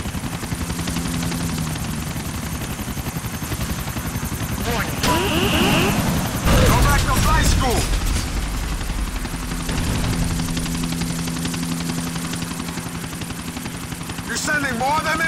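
A golden helicopter in a video game thrums steadily overhead while bursts of gunfire crackle around it, with a louder volley in the middle and brief voices mixed in.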